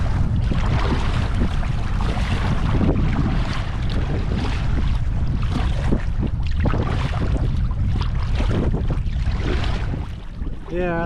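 Strong wind buffeting the microphone on open water during a paddle, a dense rushing roar with gusty surges that rise and fall throughout, loud and unbroken, easing only slightly near the end.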